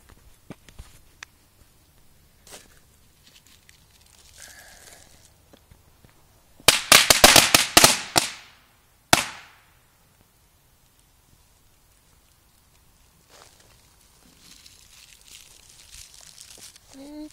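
Black Cat firecrackers go off outdoors in a fast crackling burst of many loud pops, then one more sharp bang a moment later, with faint talk and quiet stretches around them.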